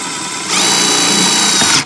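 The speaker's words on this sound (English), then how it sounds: "We'll just get them screwed into place here" A power drill drives 3/8 self-tapping screws into a 2018 Ford Edge during a battery disconnect install, the motor whining loudly and steadily, then pitching up under load for over a second before stopping.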